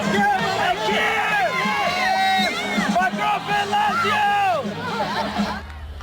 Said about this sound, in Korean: 김하성이 등장하자 팬들의 환호가 쏟아집니다.